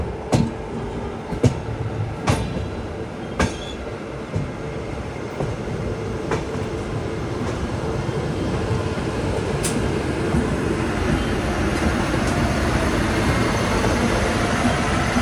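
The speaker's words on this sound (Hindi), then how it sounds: "यहाँ सामने से कोई तो ट्रेन आ रही है जो कि कानपुर सेंट्रल अभी एंट्री कर रही है।" A train rolls into Kanpur Central station, its steady rumble growing louder and closer, with a few sharp clanks early on and wheel rattle building toward the end.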